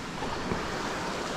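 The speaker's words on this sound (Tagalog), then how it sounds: "There's a water crossing." Steady broadband rush of flowing water at a clear river crossing on a mountain backroad, continuous and fairly loud with no pauses or voices.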